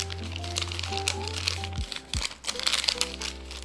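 Paper crinkles and crumples as it is folded around a bread loaf for Egyptian hawawshi, a busy close rustling with a couple of sharper cracks, over a steady low kitchen hum.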